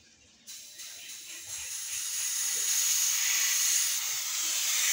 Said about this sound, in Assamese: প্ৰথমে আমি ইয়াৰ হাৱাটো এৰি দিম